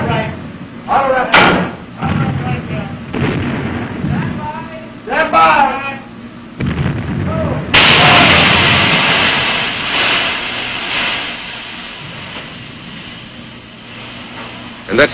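A navy battleship's turret big guns fire shells propelled by TNT powder-bag charges: one sudden loud blast booms out after several seconds of talking and mechanical clanks, then a long rumbling roar slowly fades.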